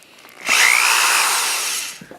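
A power drill backs a worn traction screw out of a shoe sole lug, one loud whirring run of about a second and a half with a rising whine, close up and alone.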